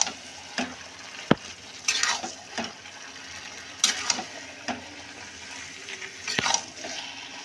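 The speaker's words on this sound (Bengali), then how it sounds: "এবার কচু শাকগুলো ভালো করে নাড়তে হবে।" Taro leaves (kochu shak) being stirred in a hot pan, with repeated scraping strokes of a spoon against the metal over a steady sizzle, irregular clinks and swishes recurring every second or so, close and moderately loud, no voices.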